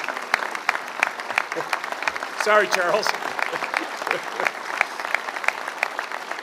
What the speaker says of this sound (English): Give these two folks a great round of applause for the great work that they have done.